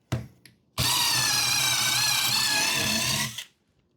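A DeWALT impact driver fitted with a drill bit whirs at full speed for nearly three seconds while boring into a 2x4, with a short blip just before and an abrupt stop.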